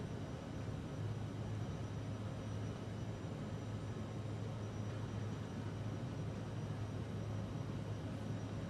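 In a flight simulator video game, an airliner on its takeoff roll from JFK gives a steady, moderately quiet engine roar and rumble that stays even throughout, without speech.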